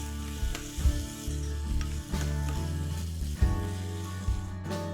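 Curry leaves, finely chopped green chillies and crushed ginger-garlic sizzling in hot oil, a steady close crackle with bursts of spattering and occasional stirring, alone without talk.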